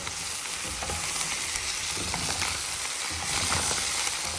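Chicken and chopped capsicum stir-fried in a hot pan, a loud continuous sizzle and crackle close up, with scraping stirs and no talk.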